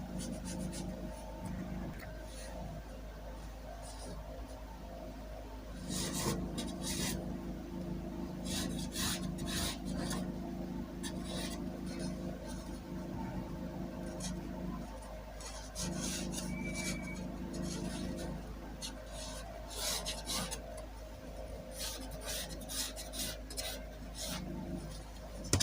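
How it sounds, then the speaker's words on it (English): Marker or chalk drawn across fabric while drafting a high-neck gathered long gown, giving soft repeated rasping strokes in bursts over a steady low background hum, close and fairly quiet. "I'll mark these lines out."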